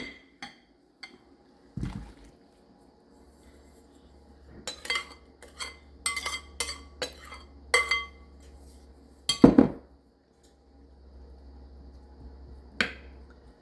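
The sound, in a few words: dumping pineapple casserole ingredients into a casserole dish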